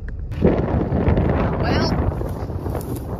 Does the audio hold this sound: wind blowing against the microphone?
yes